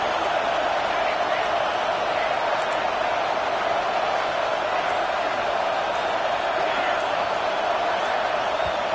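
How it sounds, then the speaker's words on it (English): Steady roar of a stadium crowd in the NCAA 26 college football video game, a dense unbroken wash of noise at constant loudness, with a commentator talking over it. "It's early, but this crowd is fired up. Listen to this noise here."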